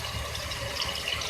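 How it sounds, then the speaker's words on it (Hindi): Half a cup of water is poured into a chicken white stew, giving a faint, short, steady trickle and splash of liquid with no talk over it. "और अब जब भून जाए तो इसमें मैं थोड़ा सा पानी ऐड करूँगी हाफ कप।"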